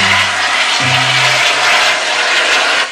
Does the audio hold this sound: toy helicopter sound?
yes